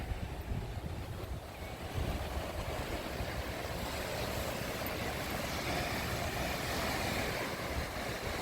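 Steady broadband wash of surf on a beach near a levee where people are fishing, mixed with wind buffeting the microphone, continuous and fairly loud throughout with no voices.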